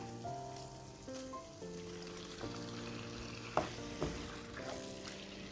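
Marinated prawns sizzling as they fry in thick masala for a Kerala-style prawn ghee roast, a steady soft crackle beneath prominent melodic background music, with a couple of sharper clatters near the end.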